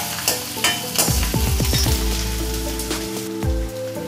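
Onions, green chillies, curry leaves and ginger-garlic paste sautéing in a pan, a loud close crackling sizzle with rhythmic spatula scrapes and knocks against the pan.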